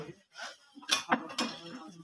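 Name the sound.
ceramic dinner set plates and cups clinking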